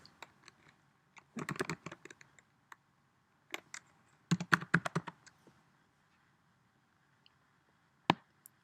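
Typing on a computer keyboard, heard as close, quick clusters of clicky keystrokes in two main bursts separated by quiet pauses, then one final sharp keypress.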